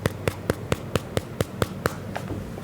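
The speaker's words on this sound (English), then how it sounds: "and a constant tapping sound like this" Phone making a constant tapping noise during calls: a regular series of about ten sharp, faint clicks at an even pace over a low background hiss.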